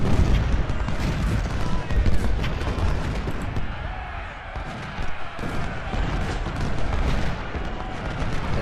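Artillery booms and rattling gunfire roll on without pause in a Civil War battle in Ultimate General: Civil War, loud and dense, while someone talks over the barrage.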